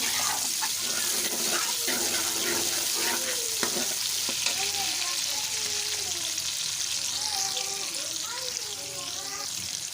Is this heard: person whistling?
no